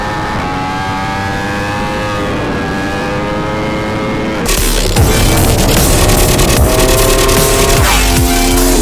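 A Ducati Panigale V4 motorcycle engine idles with a rough, layered rumble, then revs hard and stays loud and close as the bike pulls away.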